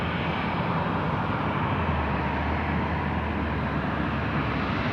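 A FedEx aircraft departing Sydney Airport at night makes a steady, loud, dense engine roar that holds constant throughout, with no voices over it.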